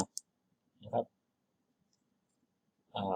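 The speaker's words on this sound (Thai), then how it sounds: "วิธีการเซตก็คือคลิกที่ปุ่ม Add ขึ้นมา" A computer mouse button clicks a few times while a project is set up in the Eclipse IDE, crisp and close against a quiet room.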